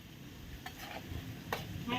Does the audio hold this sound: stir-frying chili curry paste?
yes